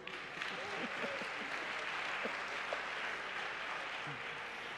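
A church congregation applauds continuously in acclaim of Jesus, a dense, steady wash of clapping from a large crowd. Indistinct voices run underneath.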